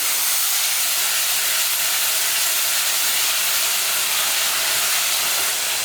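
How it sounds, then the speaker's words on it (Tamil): Tomatoes and onions sautéing in a pan for a black chickpea gravy, giving a steady, loud, broadband sizzle and hiss that holds evenly throughout with no talking. "தக்காளி வெங்காயம் எல்லாமே நல்லா இந்த மாதிரி வதக்கிக்கிறோம்"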